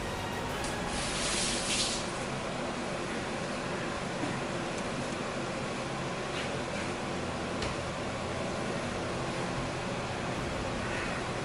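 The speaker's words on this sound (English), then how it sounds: "Let me just give my hand a quick rinse." Tap water runs in a kitchen sink while hands are rinsed, making a faint, even hiss that continues without a break.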